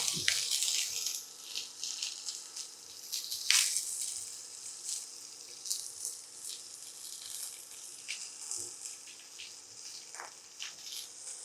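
Cumin, onions and chili fry in hot oil in a kitchen pan, giving a steady faint hiss and crackle with small pops throughout, no talking.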